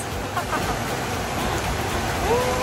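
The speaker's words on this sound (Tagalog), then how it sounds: "Dito ulan. Unos to. Unos." Steady, dense hiss of heavy rain pouring down, with faint wind and water noise throughout and no clear voices.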